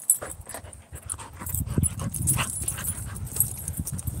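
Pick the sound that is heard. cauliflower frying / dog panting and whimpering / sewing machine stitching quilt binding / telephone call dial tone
dog panting and whimpering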